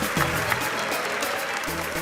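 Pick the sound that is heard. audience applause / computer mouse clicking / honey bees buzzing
audience applause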